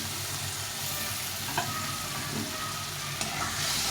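Ginger and radhuni spice paste sautéing with a little water for a vegetable curry, a steady soft sizzle with occasional stirring scrapes, close and continuous with no talk.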